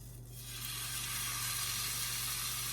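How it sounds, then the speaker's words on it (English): Bacon breakfast roll ups fry in a pan with a steady, close sizzle and hiss that swells slightly and then holds evenly throughout. "You can see they're just frying away."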